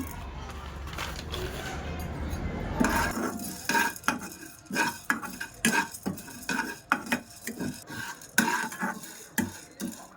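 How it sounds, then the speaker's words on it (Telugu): Chana dal being dry-roasted in a pan for drumstick-leaf spice powder, with a low rumble at first, then a steady run of distinct scraping and clinking stirs of the spatula against the pan, close and fairly loud. "తర్వాత శనగపప్పు, ఇవి కూడా కొంచెం లైట్గా దూరగా వేయించుకుంటే సరిపోద్ది."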